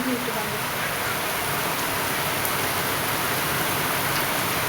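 Steady rain pouring outside a balcony at night, a dense, even hiss with no breaks throughout, fairly loud and close.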